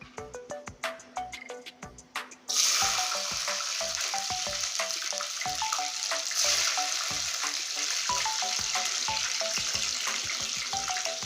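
Whole garlic cloves fry in hot oil with cumin seeds, a burst of loud, steady sizzling starting abruptly after a quieter opening and continuing close up, with light tonal music running underneath.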